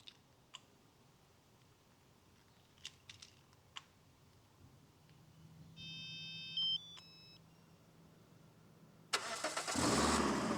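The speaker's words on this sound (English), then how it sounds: "Tells us to start our engine." A few faint clicks and a short series of electronic beeps from a LOKITHOR JT400 jump starter, then a car engine cranks and roars to life loudly at the end.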